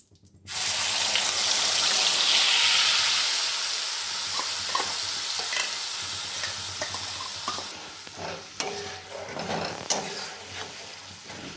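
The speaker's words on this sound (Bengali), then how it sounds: "এবার ওই তেলের ওপরেই আমি আদা 1 ইঞ্চি আর নারকেল আর 4টে কাঁচা লঙ্কা পেস্টটা ঢেলে দিচ্ছি" A paste of ginger, coconut and four green chilies poured into hot oil over half-fried green beans, bursting into a loud hiss that settles into a softer sizzle with stirring clatter and scrapes.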